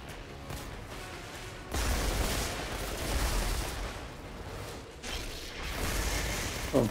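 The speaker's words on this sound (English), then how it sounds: "people are gonna complain that I used the assault rifle at close range" An assault rifle fires in bursts in the shooter game Outriders, sustained heavy gunfire with booming surges and mechanical clatter that pause briefly before resuming, with no talk.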